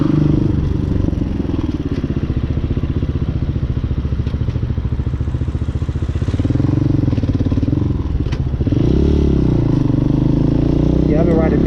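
A street-legal dirt bike rides through streets at night, its engine droning loud and close with revs rising and falling and a shift near the end, under a rider talking.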